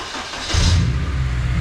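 A Honda K24-swapped car engine, an FG2 chassis, cranks briefly and fires on the first attempt, settling into a loud, steady idle rumble close by.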